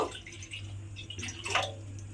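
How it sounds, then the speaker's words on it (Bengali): Water is poured into a kadai set on a lit gas stove, a close splashing, gurgling stream with uneven swells in loudness. "বেশ কিছুটা জল আমি এর মধ্যে দিয়ে দেব"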